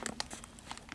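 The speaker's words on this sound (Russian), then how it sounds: "Плотно набит довольно. Такой плотненький пакетик." A tightly packed plastic bag is crinkled in close, quiet bursts, a quick run of crisp rustles and crackles with no talk.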